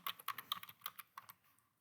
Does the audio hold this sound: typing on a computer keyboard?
yes